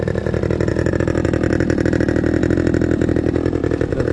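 A quad bike engine running steadily, a loud, close, even mechanical drone with a rough pulsing idle throughout, no voices.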